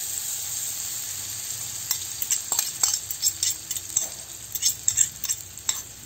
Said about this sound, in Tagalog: ilagay na natin ang binating itlog